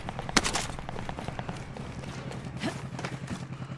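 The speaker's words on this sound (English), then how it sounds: "I might shoot off the roof. I want to shoot." Rapid gunfire in a video game, a dense, fairly faint crackle of shots with a sharper louder crack early on, running steadily under other game noise.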